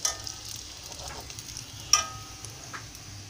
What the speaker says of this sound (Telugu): ఈరోజు పూరీలు వండుతున్నాను. చూడండి ఎలా పొంగుతున్నాయో పూరీలు.